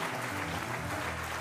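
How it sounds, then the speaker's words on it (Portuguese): Church congregation applauding during a Christmas message, a dense, even wash of clapping from many people heard briefly at moderate volume. "Aplauda o Senhor, aplauda o Senhor."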